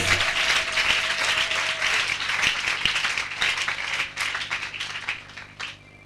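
A church congregation applauds at a worship service: dense, energetic clapping that stays strong and then gradually thins out toward the end.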